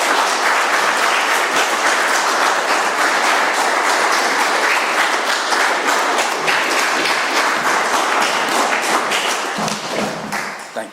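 An audience at an AA meeting applauds, the dense, loud clapping sustained without a break for about ten seconds before it starts to thin out at the end.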